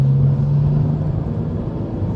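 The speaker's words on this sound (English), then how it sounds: "the way this N55, cracking the way it pulls, really, really addictive. The turbos, you can hear it spinning up, and the noise" A BMW M135i hot hatch with the N55 turbocharged engine, track-prepared, pulls hard on the road, a steady close engine drone and rumble with a faint rising turbo whine.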